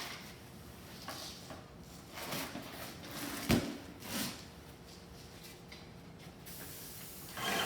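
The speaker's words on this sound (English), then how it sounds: "It's not like you're painting it, it's just you're getting it covered with mist." Decontamination mist sprayed over a mattress in back-and-forth strokes, soft hissing bursts at a moderate distance with a brief bump partway through, low and fairly quiet overall.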